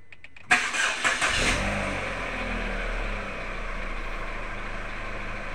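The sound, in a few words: car engine starting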